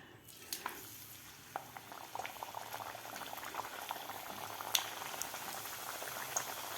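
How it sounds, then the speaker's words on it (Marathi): Spicy masala puris deep-fry in hot oil, a faint continuous bubbling sizzle with scattered small pops and crackles throughout. "तुम्ही एका वेळेस 2 ते 3 सुद्धा पुऱ्या तळू शकता."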